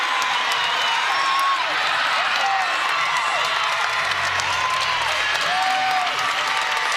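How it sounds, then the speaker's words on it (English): A women's college volleyball crowd cheering and applauding in an arena, with loud sustained clapping and whistles over a dense roar from start to finish. "The Panther crowd exuberant."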